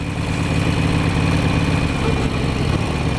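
A Harley motorcycle engine idles close by in a loud, steady, low rumble with even pulsing and no talk.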